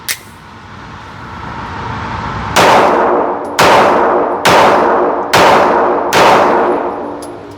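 A Ruger RXM pistol firing MagTech 115 grain ammunition, five sharp, loud shots about a second apart, each followed by a short ringing tail, with no talking.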